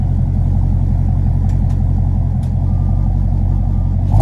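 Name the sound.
2017 Dodge Charger 6.4L Scat Pack exhaust heard from inside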